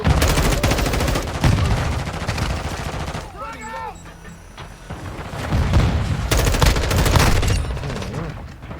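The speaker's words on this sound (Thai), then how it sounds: "ตอนนี้เรายิงเยอะสุดนะทุกคน" Video game gunfire rattles in dense, loud automatic bursts, nearly continuous, with a brief lull midway before firing resumes heavily; a voice is faintly audible in the mix.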